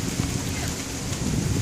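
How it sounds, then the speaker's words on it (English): Heavy rain pours down steadily during a flash flood, a dense continuous hiss of water on surfaces with low rumbling underneath, filling the whole short stretch without pause. "Hasn't stopped raining yet."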